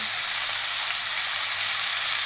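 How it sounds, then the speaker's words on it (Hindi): Spices being mixed into karela curry in a pan, a loud, dense, continuous frying sizzle with no break, close up. "अब इनको हम अच्छे से मिक्स कर देंगे"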